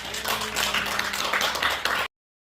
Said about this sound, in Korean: 오늘 강의 해주신 우리 박석 교수께 다시 한번 박수 한번 드리겠습니다.